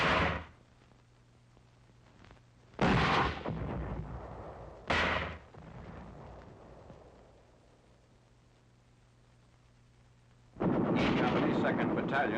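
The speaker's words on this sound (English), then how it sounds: "Enemy troops in a rice paddy are subjected to the mortar fire." Heavy 4.2-inch mortar fire in combat against enemy troops in a rice paddy: three loud, deep blasts with rumbling decay, then a sustained roar of firing near the end, over a low steady hum.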